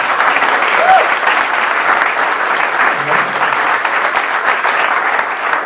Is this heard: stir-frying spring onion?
no